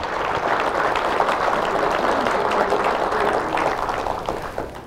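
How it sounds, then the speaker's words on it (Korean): Audience applause for a professor at a Korean talk event: dense, steady clapping from a crowd throughout, fairly loud, tapering slightly at the end with no speech over it. "자, 우리 조 교수님 위해서 박수 한번."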